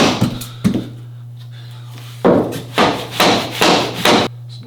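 Vinyl floor planks being hit to tap them into place during installation: a series of loud, close thuds and knocks, a few spaced apart, then a quicker run of four or five, over a steady low hum.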